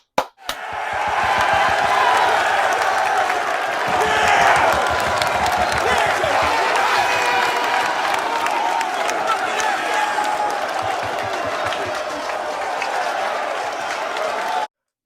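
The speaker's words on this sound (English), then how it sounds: "Clap it up for Pops" A crowd applauds and cheers for a father, a dense, sustained roar of clapping and shouting that runs loud and steady for the whole stretch before cutting off abruptly.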